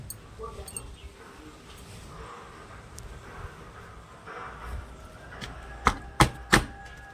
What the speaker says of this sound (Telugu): ఇదిగోండి కత్తి పెడితే ఆ విధంగా చక్కగా ముక్కల్ని ఒక కాయని 2 చెప్పలుగా కోసి